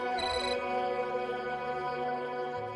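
A mobile phone rings with a melodic ringtone inside a family home during a college love-story drama. It plays as a steady, fairly loud run of sustained electronic tones for about three seconds, a brief bright chirp at the start, with no talking over it.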